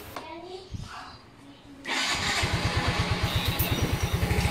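A motorcycle fitted with a remote kill switch fires up after a brief pause and settles into a steady, rhythmic idle that stays close and fairly loud; someone talks just before it starts.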